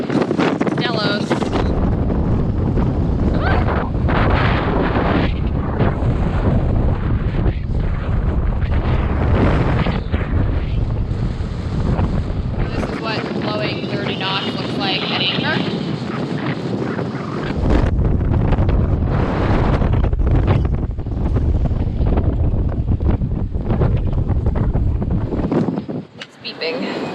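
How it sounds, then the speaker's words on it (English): Strong wind buffets the microphone aboard a sailboat at sea as the wind shifts and builds, a loud continuous roar with gusty surges and rushing water beneath, while a voice talks intermittently over it. "It's actually worse today than it was the last 2 days because the wind shifted a little bit, so we're getting more wind"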